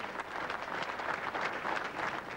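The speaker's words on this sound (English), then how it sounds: "they broke into spontaneous applause" A large crowd outside the Abbey breaks into spontaneous applause during Princess Diana's funeral service. The clapping is distant and fairly faint, forming a dense, even patter that holds steady throughout.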